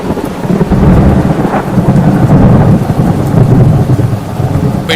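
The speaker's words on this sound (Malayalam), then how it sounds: "പെട്ടെന്നാണ് വലിയ ശബ്ദത്തിൽ ഇടിവെട്ടിയത്." A loud thunderclap booms and rumbles through heavy, steady rain, the downpour filling the whole stretch at close range with no voices.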